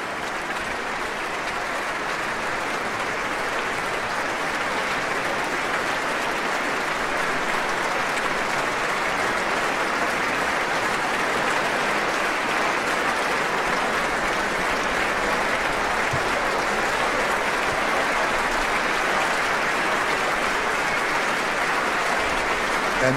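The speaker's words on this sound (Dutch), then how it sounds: "aan het aanzwellen van het applaus dat Alexei Volodin zich nog een keertje op het podium laat zien" A concert audience applauds after a performance of Chopin's Piano Concerto No. 1 in E minor, a dense, steady wall of clapping that holds loud and continuous throughout, with no voices standing out.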